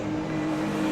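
Touring race cars run together in a four-car pack at Cadwell Park, engines droning loud and steady with a constant high whine and no gaps.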